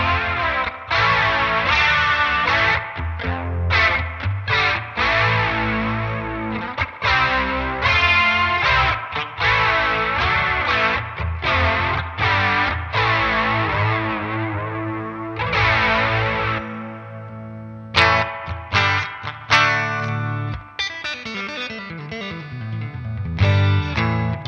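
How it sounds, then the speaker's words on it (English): An electric guitar runs through a Danelectro Spring King Junior spring reverb with chorus, playing loud sustained chords and notes that ring out in washes, with a brief pause and then choppier strummed passages near the end. "Lovely, lovely, lovely spring reverb."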